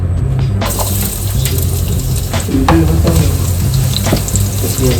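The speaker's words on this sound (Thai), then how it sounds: "แล้วก็อันนี้เดี๋ยวใส่กระเทียมลงไป" Garlic frying in a hot pan, a steady loud sizzle with occasional stirring scrapes and crackles running throughout.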